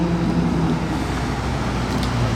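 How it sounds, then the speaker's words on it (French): Ferrari V12 car idling or cruising close by in a Monaco street, a steady low engine rumble with harmonic hum blended into surrounding traffic noise, continuous and fairly loud with no talk. "Un V12 Ferrari dans mon dos."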